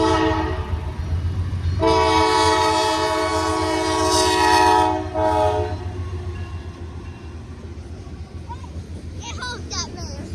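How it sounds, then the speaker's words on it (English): A train passes near a rail crossing in Ashville, Ohio, its horn blaring in long sustained blasts for several seconds over a steady rumble of rolling cars, with brief voices toward the end. "No way, there's a train again."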